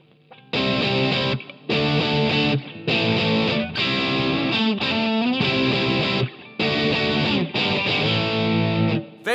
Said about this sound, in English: Now we've got some more overdrive.